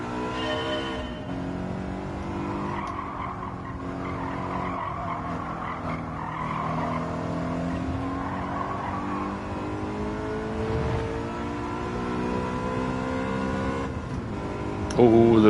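A BMW M3 racing at Autopolis in Gran Turismo 7, its engine holding high revs and rising and falling through gear changes with tire squeal, climbing to a loud rev-limiter burst at the very end while someone talks over it.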